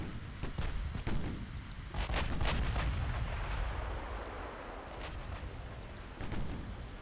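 Battlecruiser main guns firing a broadside in the naval game Ultimate Admiral Dreadnoughts, a cluster of sharp, loud cannon reports in quick succession followed by rolling rumble and scattered further shots.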